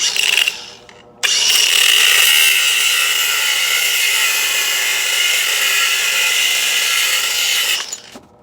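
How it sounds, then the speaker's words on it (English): A power tool cuts through a bolt on a 1985 Harley FXRS Evo, a loud, close, high-pitched whine that starts abruptly after a short burst and holds steady for about seven seconds before stopping. "I'm gonna cut this bolt off"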